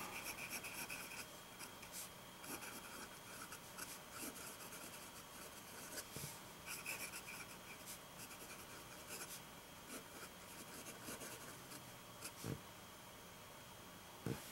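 A fountain pen with a broad 1.5 stub nib scratches steadily across paper, a close, continuous soft rasp of writing strokes with no talking.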